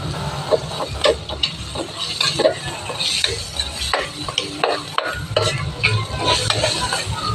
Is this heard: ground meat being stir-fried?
yes